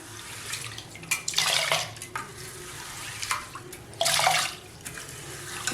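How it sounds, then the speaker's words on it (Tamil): Water poured from a tumbler into a pressure cooker holding soaked toor dal, splashing in bursts with brief clinks against the metal vessel, close and clear with no talking. "இப்போ குக்கரில் வேக வச்சிடலாம் ஒரு அஞ்சு டம்ளர் தண்ணி எடுத்துருக்குறேன்"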